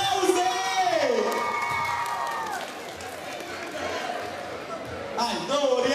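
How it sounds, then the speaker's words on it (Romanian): A school crowd at a high school freshman ball in Ilia, Romania, cheers, whoops and shouts loudly in a hall, a continuous roar with voices rising and falling, children's shrieks and an announcer-like voice over it. "Aplauze!"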